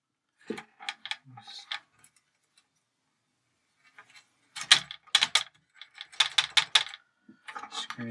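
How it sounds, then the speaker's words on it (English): A small nut and screw are tightened by hand on a keytar built from a keyboard controller, making close, light metallic ticks and clicks in short clusters separated by quiet gaps. "Screw that on."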